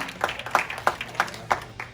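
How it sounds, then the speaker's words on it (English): Faint, sparse hand clapping at a closing ceremony, with evenly spaced single claps rising above quiet room noise. "Give him a round of applause"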